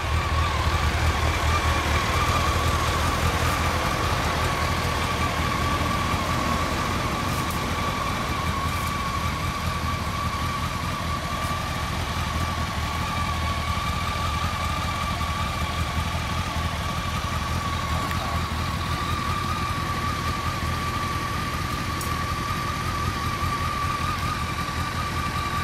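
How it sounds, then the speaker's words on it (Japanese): A 2014 Honda CBR250R motorcycle engine idles with a steady, even mechanical hum and a faint whine, unchanging and close by for the whole stretch, with no talking. "いや、エンジン音聞かせて。"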